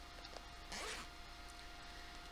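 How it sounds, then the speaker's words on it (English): A clothing zipper is pulled in one quick, close, raspy stroke lasting about a quarter second, set against a quiet room hum. "Can't have floss in my zipper."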